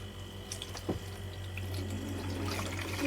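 Water runs into the evaporator of a homemade refrigeration system charged with R600a, a steady trickling fill with occasional drips, over a constant low electrical hum that grows slightly fuller toward the end.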